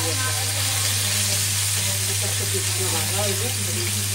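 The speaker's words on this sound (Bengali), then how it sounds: "তেল গরম হয়ে গেছে মাছ দেওয়া হয়েছে" Small puti fish fry in hot oil in a pan, giving a steady, loud, close sizzle and crackle that continues without a break.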